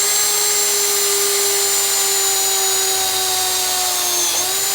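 Power drill boring through sheet metal backed by plywood, shrill steady whine of the spinning motor held close and loud for several seconds, sagging slightly in pitch at the end as the bit breaks through.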